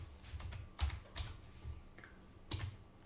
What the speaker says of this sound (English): Hit enter, and then type in rsync